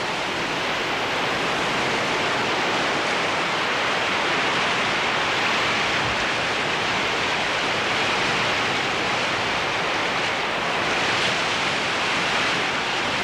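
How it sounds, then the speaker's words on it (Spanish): Ocean surf rolls in and draws back along the shore of the Lafkenmapu coast, a steady, loud wash of breaking waves with no pause and no voices. "Cuando la ola se retira"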